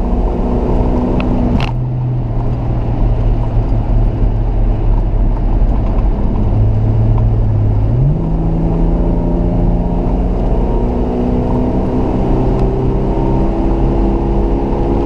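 Hot rod accelerating hard from a dead stop to chase a farm truck, engine loud and close with a continuous growl and several audible shifts as the pitch climbs and drops.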